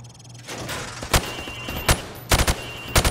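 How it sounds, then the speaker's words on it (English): A rifle fired from the hip at range targets in Call of Duty MWR: several sharp, loud single shots, a couple in quick succession, cracking over a low background hum. "Now, shoot at the targets while firing from the hip."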